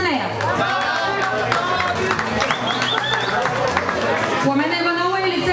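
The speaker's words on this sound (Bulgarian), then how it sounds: "Аплодисменти за нея!" Applause and cheering from the audience for a contestant at the Miss Haskovo 2014 beauty pageant, clapping mixed with crowd chatter and a voice over a loudspeaker.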